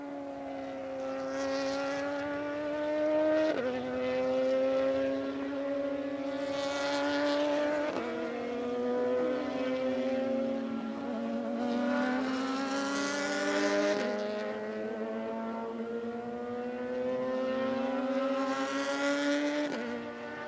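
Race cars on a racetrack getting up to speed: a loud, high engine drone rising through the gears again and again, with sharp pitch drops at each shift, continuing for about twenty seconds.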